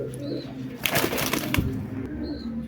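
A single male pigeon coos softly in short repeated calls, with a brief flutter of wings and light rustling nearby.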